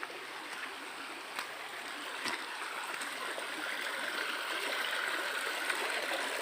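Steady flowing stream water at a riverside, a continuous soft broadband rush with faint trickling, slowly growing a little louder and with no voices.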